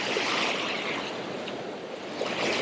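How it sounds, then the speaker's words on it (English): Steady rushing wash of an incoming tide's waves rolling in, a continuous broad roar with no voices, moderately distant. "Tide's coming in pretty good."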